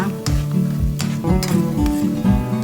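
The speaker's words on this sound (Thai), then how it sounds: "เราจะผัดกระเทียมให้น้ำมันกระเทียมมันออกมาเยอะๆก่อน ผัดไปเรื่อยๆค่ะ ใช้ไฟแรงนะคะ" Garlic frying in oil over high heat, a close, steady sizzle with repeated scraping stirs at an irregular rhythm, loud and without talk.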